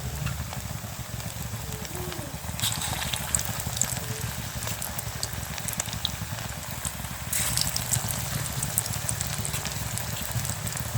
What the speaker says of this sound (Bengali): আবার একবার ভেজে নিচ্ছি।